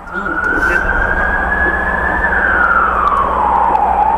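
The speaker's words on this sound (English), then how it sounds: "That siren is our world." A wailing siren rises, holds and then falls in pitch, loud and fairly close over a low rumble of traffic.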